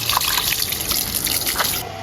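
Continuous splashing and trickling water, bright and close, with a few sharper drips and gushes.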